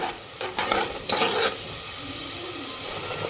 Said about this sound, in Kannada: ಇದನ್ನ ಈ ತರ ಪೂರ್ತಿ ಮಿಕ್ಸ್ ಮಾಡ್ಕೊಳ್ಳೋಣ್ರಿ